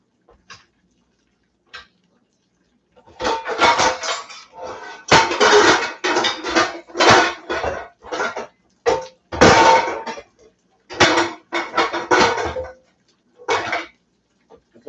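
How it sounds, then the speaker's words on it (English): Pots and pans clatter and bang in a kitchen while country fried chicken and gravy are cooked, a loud, irregular run of metallic clanks and scrapes after a few quiet seconds, with no talking. "Sorry about the noise of all the pans."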